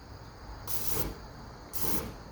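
Two short, loud hissing bursts of Carlini cooking oil spray fired from an aerosol can during a flammability test, each lasting about half a second with a brief pause between them.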